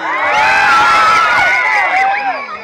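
A crowd at a gay pageant in Naga, Philippines, cheers and shouts continuously, with high whoops and screams swelling over a dense hubbub of voices, loud and close throughout.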